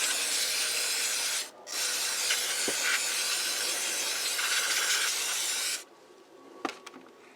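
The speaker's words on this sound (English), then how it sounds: "I'm using carburetor cleaner. But I spray off the outside" Carburetor cleaner sprays in a loud, steady hiss from an aerosol can onto a Polaris Trailblazer 250 carburetor, with a short pause partway through, then stops, leaving quieter clicks and handling noises.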